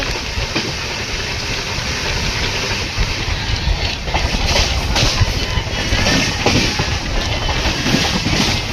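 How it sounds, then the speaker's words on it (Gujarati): A long freight train rumbles past close by, a continuous heavy roar with faint rhythmic clatter of wheels over rail joints. "સામે માલગાડી ટ્રેન આવેલી છે"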